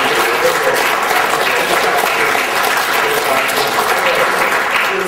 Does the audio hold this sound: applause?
yes